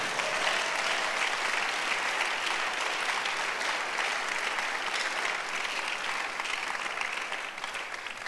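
Many hands of a church congregation clap for the Lord in a continuous, dense roar that stays loud and even throughout, easing slightly at the very end.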